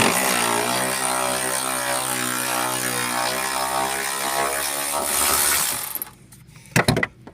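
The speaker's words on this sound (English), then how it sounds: "the seats are just held in with 4 13mm head bolts. So undo it." A ratchet undoes the 13mm head bolts holding the seats in a Volvo 740: a dense, steady whirring and clicking runs for about six seconds, then a few sharp clicks sound near the end.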